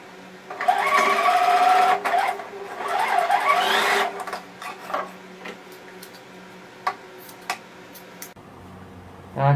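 Sewing machine stitching a short safety seam on a plush fox toy, two bursts of steady whirring in the first four seconds, then quieter handling clicks and taps.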